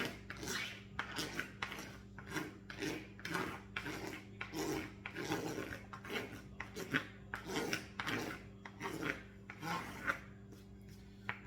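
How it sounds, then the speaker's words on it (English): A razor blade rasps old, scuffed plastic off a bent part in steady, rhythmic back-and-forth strokes, about a dozen close scrapes repeating evenly over a low background hum. "Let me just scrape this old plastic off."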